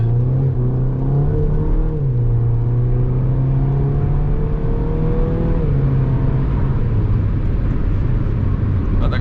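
A Mini Cooper S Roadster accelerates hard, a loud, close engine drone whose pitch climbs steadily, eases at a gear change and rises again, with heavy road and wind rush and no talking.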